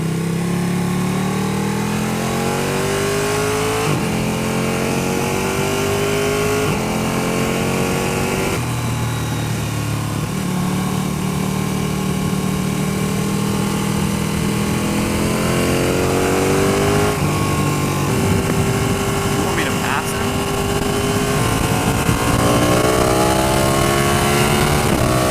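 A Ducati 1299 Panigale S motorcycle pulls hard through the gears, engine note climbing and dropping in steady repeated sweeps as quick shifts cut in, loud and close with constant wind rush underneath.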